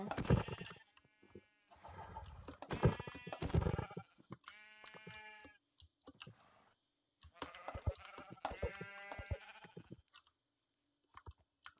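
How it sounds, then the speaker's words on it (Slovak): Sheep in the Minecraft video game bleat repeatedly, several wavering, nasal calls in separate bursts with short silent gaps between them, close and clear, with no talking. "pozabijem nejaké ovce"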